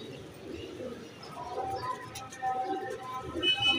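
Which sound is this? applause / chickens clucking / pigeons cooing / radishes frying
pigeons cooing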